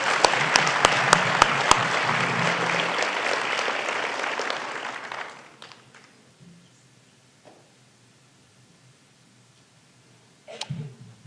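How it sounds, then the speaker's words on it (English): Applause from a graduation ceremony audience rises briefly and steadily, then dies away after about five seconds into near silence with faint scattered rustles and a small noise at the end. "Can we give her one more round of applause,"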